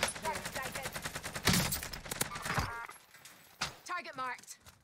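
Rapid bursts of automatic gunfire in Call of Duty Warzone on the Verdansk map, sharp close rattling shots repeating quickly, then fading as players talk over the action.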